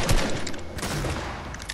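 Heavy gunfire in Fortnite rattles off as a dense close burst of sharp shots, loud and continuous across the moment with no voices over it.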